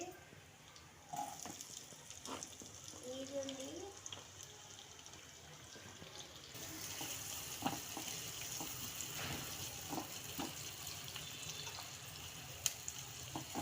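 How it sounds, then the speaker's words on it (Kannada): Onions roasting in butter and oil for pav bhaji, a soft continuous sizzle with occasional clinks, while a voice speaks faintly in the background. "ಸ್ವಲ್ಪ ಉರಿಬೇಕು ನೋಡಿ, ರೋಸ್ಟ್ ಆಗಬೇಕು ಫ್ರೆಂಡ್ಸ್ ಈರುಳ್ಳಿ ಎಲ್ಲ"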